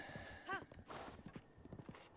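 Galloping hooves of a horse in Breath of the Wild video game clatter in quick rhythm, with a short neigh early on, moderately close and mixed with other game noise.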